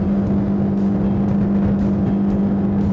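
A Selva 600 Endeavour motorboat engine running hard near 6,000 RPM at about 39 knots, a loud steady high-pitched drone with a constant whine, heard alone and continuous throughout.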